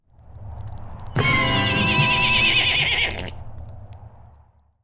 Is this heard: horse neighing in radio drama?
yes